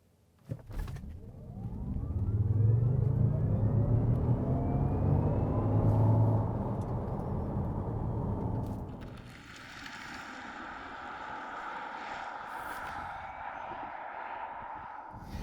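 A 2022 Jaguar I-Pace electric car accelerates hard from 0 to 100 km/h with a loud rising whine and road rumble that swell for several seconds, then ease into a steadier cabin hum with a faint tone.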